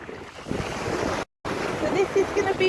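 Ocean surf on a large open beach, a broad steady wash of waves and wind, fairly loud and close, with a brief dropout partway through and a faint tonal sound near the end.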